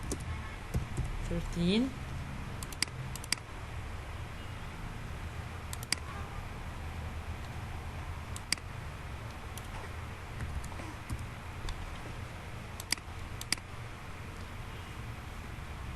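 Sparse key clicks from a computer keyboard tap out a short entry in a spreadsheet header, faint, isolated strokes spread over a quiet stretch, with a brief spoken word early on.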